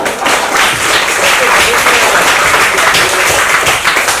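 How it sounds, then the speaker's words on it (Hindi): Applause from an audience at a Hindi poetry gathering at the National Gallery of Modern Art, a dense continuous roar of clapping held at a steady loud level. "तालियां बजाओ।"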